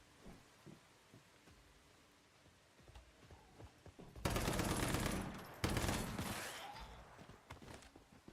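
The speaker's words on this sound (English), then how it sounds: "I hear gunfire, somebody off in the distance," Gunfire in the video game Once Human rattles in rapid bursts, loud and dense for a few seconds after a quieter start, with scattered faint pops before and after.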